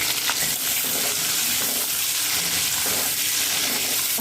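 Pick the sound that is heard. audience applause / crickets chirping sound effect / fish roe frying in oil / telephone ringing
fish roe frying in oil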